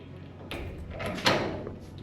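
A garage door is lowered after its springs are replaced, giving a faint, low rolling and sliding rumble with a brief louder clunk midway, heard alone.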